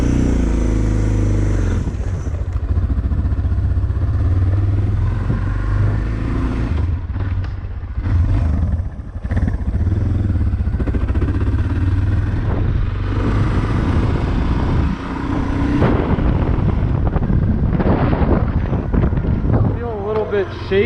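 A Suzuki DR650 dual-sport motorcycle engine drones steadily over heavy wind buffeting the microphone, with revs rising and falling as the bike rides along.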